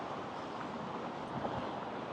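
Strong wind roars steadily and loud across the microphone while riding an ET MAX scooter fast at about 40 miles an hour, a continuous broadband rush with no pauses.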